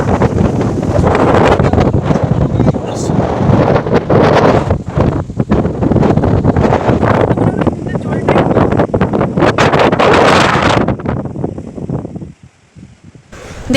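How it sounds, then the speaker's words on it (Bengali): Strong coastal wind roars into the microphone by the sea beside an old fort where a river meets the ocean, a dense, buffeting rumble that holds steady for about eleven seconds before easing. "এত জোরে হাওয়া দিচ্ছে।"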